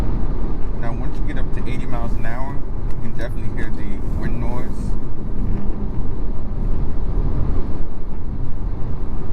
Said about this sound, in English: Get up to 80 miles an hour, you can definitely hear the wind noise.